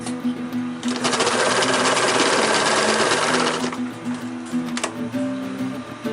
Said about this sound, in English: we are going to sew 2 more times on the far side